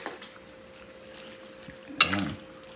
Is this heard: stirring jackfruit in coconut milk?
yes